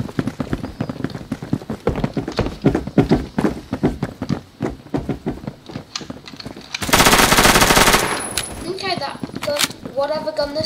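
Automatic gunfire rattles in rapid bursts in the video game Phantom Forces, close and sharp, with a player talking over much of it and a dense burst of noise partway through.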